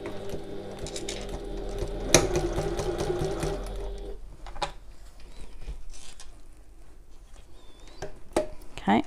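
A sewing machine stitches fabric for a large bag, running steadily and loudly for about four seconds, then stopping, followed by quieter clicks and fabric handling.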